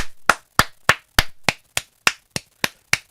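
Ten crisp, evenly spaced hand claps, close and dry with short decays, at a steady rhythm of about three per second.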